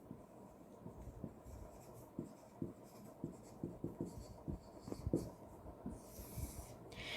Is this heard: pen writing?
yes